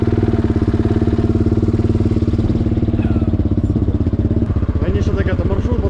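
A motorcycle engine idles steadily just after starting, close and loud, its low, even, throbbing pulse running unbroken throughout.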